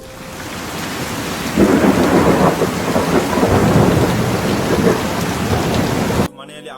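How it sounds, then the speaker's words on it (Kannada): Heavy rain pours down steadily in a thunderstorm, with a dense hiss and deep rolling thunder that grows louder after a moment, then cuts off abruptly near the end. "ಒಳ್ಳೆ ರೀತಿಯಲ್ಲಿ ಮಳೆ ಬರ್ತುಂಟು, ತಿರುಬಿರಿ ಮಳೆ ಬರ್ತುಂಟು"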